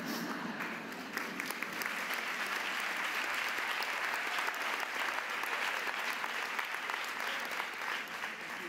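Audience applause fills a conference hall in Montevideo, a steady, fairly distant wash of clapping from many hands lasting several seconds with no voices over it.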